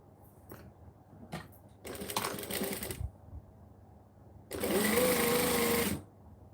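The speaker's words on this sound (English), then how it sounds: "And then right sides together, stitch her down." Sewing machine stitching two fabric pieces right sides together, a short burst followed by a longer, louder steady whirring run of about a second and a half, close and clear.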